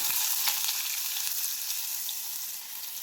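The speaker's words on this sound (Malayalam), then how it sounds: "പിന്നീട് ചെറുതായി കട്ട് ചെയ്ത് വെച്ച ഉള്ളിയാണ്, അതിട്ട് കൊടുക്കാം" Chopped onions frying in hot coconut oil, a steady bright sizzle that stays loud and even throughout with no voices.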